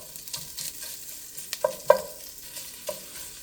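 Pork sausage browning in a pan for a one-pan Italian sausage and rice dish, with a soft steady sizzle under repeated stirring scrapes and a few sharper clicks of a utensil against the pan.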